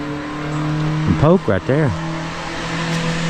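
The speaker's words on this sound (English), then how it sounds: "Somebody up on the 4-lane needs some exhaust work, don't they?" Car with a loud, faulty exhaust on a four-lane road near a riverside camp, rumbling steadily in the background throughout while someone talks briefly up close.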